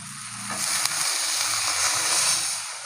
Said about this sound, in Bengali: এখন জল ঢেলে দেবো।